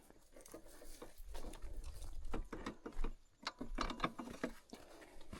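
A ratchet mechanism on camping gear is cranked tight in a series of quick mechanical clicks and rattles at close range, fairly soft, with no one talking.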